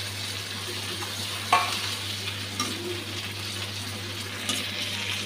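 Hilsa fish head and two tail pieces cooking in a pan, giving a steady soft sizzle with a low hum underneath and a few faint clinks of a utensil.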